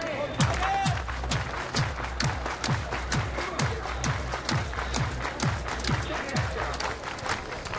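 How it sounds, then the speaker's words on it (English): A baseball crowd claps in a steady, regular rhythm, many hands striking together in unison at a stadium, with a constant background din of the crowd. "Everybody clap your hands."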